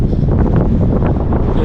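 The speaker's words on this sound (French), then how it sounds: "Il y a pas mal de vent." Strong wind buffets the microphone during a bicycle ride through the Cotentin countryside in Normandy, a loud, continuous low rumble and roar filling the whole moment.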